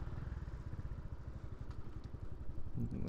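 A Honda POP 110i motorcycle engine idles close by with a steady, low, rapid throbbing putter and light mechanical clatter, with no talking.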